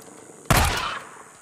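A single loud gunshot cracks out in the Days Gone game, hitting hard halfway through and then fading in a short echoing tail over quiet background.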